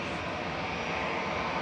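A regional turboprop airliner arriving at Manchester Airport roars steadily overhead, a broad loud engine drone with no talk.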